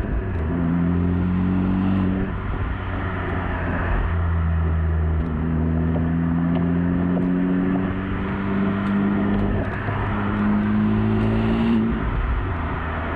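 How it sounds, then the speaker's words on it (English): A Honda Civic Type R FL5 heard from outside, its exhaust giving a loud, steady engine drone that climbs in pitch through several rising revs and gear changes. "to go back to the exhaust, as much as it has been redesigned, I'm afraid the sound of it is still a bit..."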